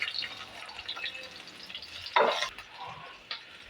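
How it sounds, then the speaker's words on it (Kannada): Onions frying in oil with mustard seeds, cumin and curry leaves, giving a steady low sizzle with a brief louder burst of crackling midway, close and moderately quiet. "ಸ್ವಲ್ಪ 1 ಬಟ್ಲಾಗಷ್ಟು ನಾನು ಈರುಳ್ಳಿ ಹಾಕಿಬಿಟ್ಟು ಚೆನ್ನಾಗಿ ಫ್ರೈ ಮಾಡ್ಕೊಳ್ಳೋಣ."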